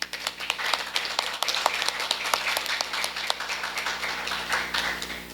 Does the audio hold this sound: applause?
yes